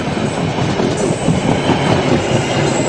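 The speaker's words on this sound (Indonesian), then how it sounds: "Dan oh ada suara kereta lagi." A train in an Indonesian horror video game passes close and loud, a steady rumbling roar with rhythmic clickety-clack of wheels on rails throughout.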